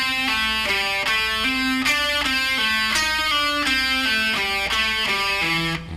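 An electric guitar plays a full pentatonic rock lick in a rock lesson setting, a fast run of bright sustained picked notes moving steadily up and down, loud and continuous with no talking.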